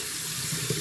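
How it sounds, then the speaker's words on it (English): Tap water running steadily over strained ombidi leaves in a strainer, a brief continuous splashing rush at close range. "Then you're just going to run it over with water again."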